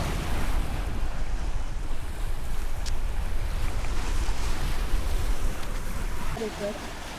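Ocean waves wash and rumble at the shore under gusty wind, a steady roar that eases near the end.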